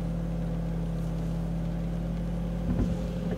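A car engine idles steadily with a low continuous hum as a learner driver prepares to move off, swelling slightly near the end as the engine is given gas.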